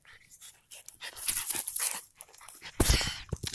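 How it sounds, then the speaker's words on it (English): Puppy panting and whimpering up close after jumping up on its owner outdoors during a nature walk, quick breathy pants broken by a sharp yelp near the end. "My dog, the puppy, just jumped up on me."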